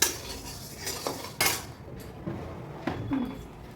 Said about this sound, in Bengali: আর আমাকে এদিকে ডালটা নাড়তে থাকতে হচ্ছে